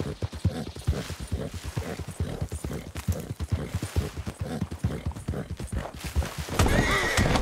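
A horse in a wooded Red Dead Redemption 2 setting clops along in quick, close hoofbeats, then lets out a loud, drawn-out neigh near the end.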